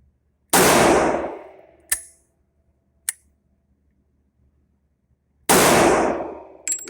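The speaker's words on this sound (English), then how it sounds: "And that was the last 5 rounds of 40 Smith & Wesson" Two loud pistol shots from a Smith & Wesson 4006 in .40 S&W, spaced about five seconds apart, each with a long decaying tail. Between them come sharp metallic clinks, likely falling brass, and one more clink follows at the end.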